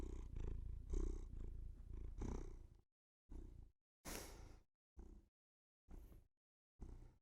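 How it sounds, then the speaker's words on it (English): Short bursts of a cat's close purring breath into a microphone, four or five separate rumbling pulses with silent gaps between them, following a stretch of steady low, continuous purring at the start. "Will you purr into the mic?"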